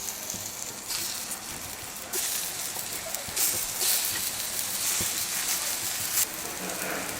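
Yam pieces sizzling in hot oil on a dosa pan, a steady close crackling hiss that swells as more pieces are laid in, with no voices.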